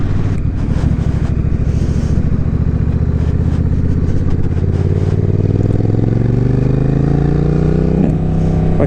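A Honda Rebel 1100 motorcycle accelerates with a loud, close engine drone whose pitch climbs steadily toward the end, with no voices over it.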